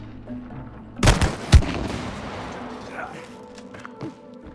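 Two sharp, close shots ring out in the It Takes Two video game, followed by a fading echo and faint smaller impacts, with voices talking nearby.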